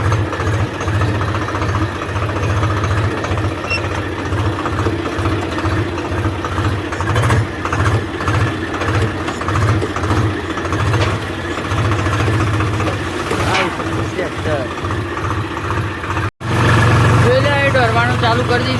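A tractor engine runs in a farm field during field work, a steady, pulsing mid-pitched drone heard up close that continues without a break and grows briefly louder near the end.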